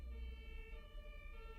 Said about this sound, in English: siren. Nice.